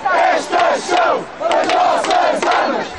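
A protest crowd in Lisbon chanting slogans, many voices shouting in unison in loud rhythmic bursts with short pauses between, repeating several times.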